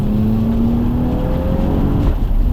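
BMW accelerating past on a wet race track, a rising engine whine over a dense rush of tyre spray and rumble, loud and close throughout.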